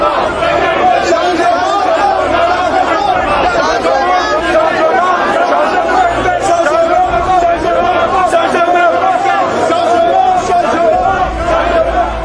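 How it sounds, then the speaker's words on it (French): Dense crowd welcoming an opposition leader in Yaoundé, a loud continuous hubbub of many voices chattering and shouting together, close and unbroken throughout. "il est accueilli par une foule dense"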